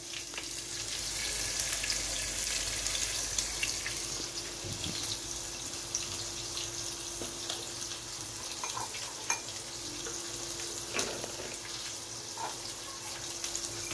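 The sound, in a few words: tomatoes frying in a pan with chili powder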